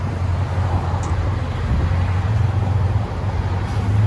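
Steady low rumble of a 1998 Dodge Ram 1500 pickup's 5.9L Magnum V8 through a dual exhaust with 14-inch Magnaflow mufflers as it drives off, loud and close, holding a constant drone throughout.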